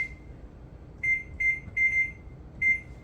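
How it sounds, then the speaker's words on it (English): A kitchen timer beeps in short, shrill electronic bursts, one single and a few doubled, while farmer's cheese is being made at home, clear and moderately loud over a quiet room hum. "timer went off"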